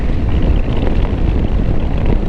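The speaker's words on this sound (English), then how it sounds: "Lots of winds, but these are not" Steady, loud wind roar buffets the microphone while a motorcycle cruises a highway in India on a solo ride from Pune to Shirdi, a constant broadband rush with no voices.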